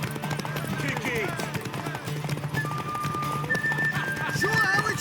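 Horse from The Witcher 3 video game whinnying and clip-clopping in a steady trotting rhythm, with shouting voices and music mixed in and a voice speaking over it.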